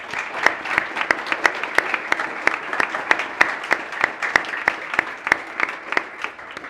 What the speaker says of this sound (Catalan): un fortíssim aplaudiment per ell